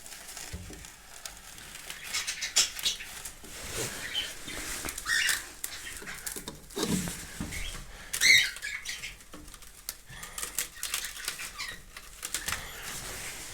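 Soft, irregular rustling and scratching with occasional light flutters and small rattles from parrots, close by, with no voices.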